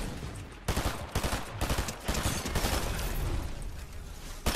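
Fortnite gunfire rattles in repeated loud bursts, dense and close, with sharp shot transients recurring throughout and a final crack at the end.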